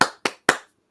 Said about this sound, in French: là c'est moi qui applaudis, bravo